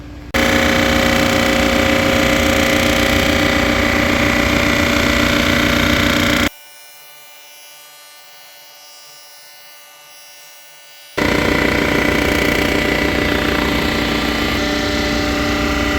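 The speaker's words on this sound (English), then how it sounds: "I got the cylinder head in my surfacer. It's nice and level. Let's cut this thing." Cylinder head surfacer machine cutting a Toyota 5SFE cylinder head, giving a loud steady mechanical whine and grind that stops abruptly midway, leaves a few seconds of low hum, then resumes at full level, with no talk.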